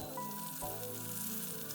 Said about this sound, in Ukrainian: Смажимо до золотистості цибулю.